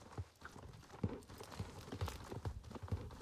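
Horse hooves clip-clop at a steady walking pace in a video game, a series of soft, evenly spaced hoofbeats close by with no talk over them.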